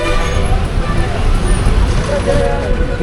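Buses and traffic rumble steadily at Trichy Chatram bus station, a loud continuous low engine drone with street bustle, heard under someone talking.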